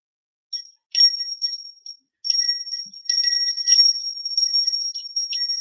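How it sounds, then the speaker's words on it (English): Small bells rung to clear energy give bright high tinkling, starting with a few scattered rings and then settling into continuous rapid jingling, close and fairly loud with no talking. "I'm going to clear the energy with my little bells"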